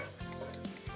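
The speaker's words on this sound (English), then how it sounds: "I want to stir these around so that the spices kind of start to toast a little bit and the onions cook" Onions and spices are stirred in a hot pan, a soft continuous sizzle with faint scraping rubs from the spoon and a couple of brief louder scrapes, quiet and close with no talking.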